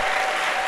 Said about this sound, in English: Applause more for Jesus.